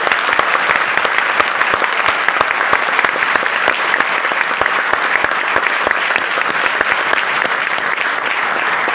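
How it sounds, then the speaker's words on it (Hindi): Dense, sustained applause from a large audience at a Vestige company event, honoring Mr. Gautam Wani, with steady crowd clapping for the full nine seconds and no talk over it. "जोरदार तालियां चाहूंगा मिस्टर गौतम वानी के लिए"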